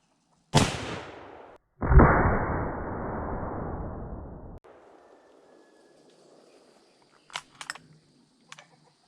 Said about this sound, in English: we're just going to shoot this across the chronograph and see what kind of velocities it is